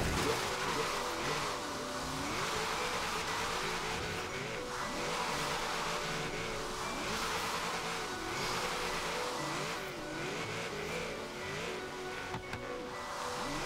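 A Nissan 370Z drifts in Forza Horizon 3, its engine held high in third gear and rising and falling in pitch over continuous tire squeal, loud and steady with no talk.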